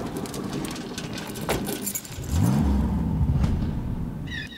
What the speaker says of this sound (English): we've got keys jingling, the car door closing, and then the car driving off